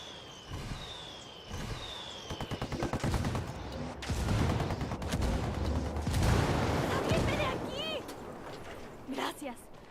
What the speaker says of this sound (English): I called the rebels for some indirect fire. We copy. Mortars away.